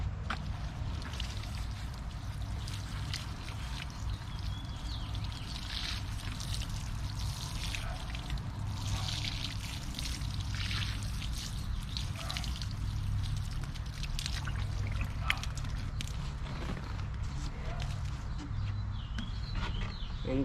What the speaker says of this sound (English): So now we're gonna water it.